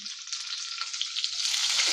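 Sliced onions sizzling in hot oil as a tempering for moong dal, a steady close frying hiss that grows slightly louder toward the end, with no voices.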